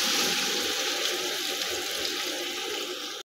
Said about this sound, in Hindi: अब मैं बम्बई बिरयानी मसाला पानी में घोल कर शामिल करूंगी।